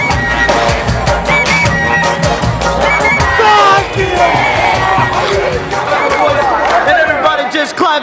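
Dense crowd of some 40,000 people lining Melbourne's main street for the annual Moomba festival parade, a continuous loud roar of chatter, cheers and whoops with scattered nearby voices throughout.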